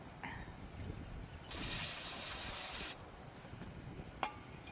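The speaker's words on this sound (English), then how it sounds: "A little bit of brake clean and a rag." A single sustained burst of brake cleaner spray hisses for about a second and a half, between quieter handling noises and a short clack near the end.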